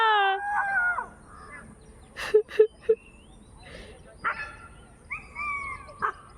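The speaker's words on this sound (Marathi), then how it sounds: "भोकाकच लागलो तो कुत्रो एकदम माका" A dog gives three quick barks in a row, with other scattered calls and faint voices around it at moderate distance.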